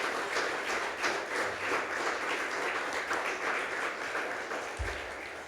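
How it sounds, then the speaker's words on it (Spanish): A church congregation applauds during a Spanish sermon, steady dense clapping heard from a distance, sustained and even with no talk over it. "Dale un aplauso al Señor"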